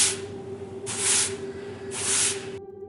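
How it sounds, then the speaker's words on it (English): Two slow, broad brushing swishes of a broom sweeping a concrete basement floor, each about half a second long, over a steady low hum. "Someone was sweeping the concrete floor in the basement."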